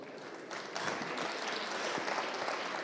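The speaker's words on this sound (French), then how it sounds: "Je propose qu'on vous applaudisse." Conference audience applauding a speaker in a hall: a broad wash of clapping that swells after the first half-second and holds steady, moderately distant and without voices.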